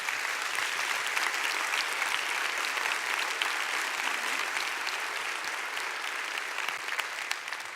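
A large audience at a university address claps in sustained, dense applause. It stays loud and even for several seconds, with no speech over it.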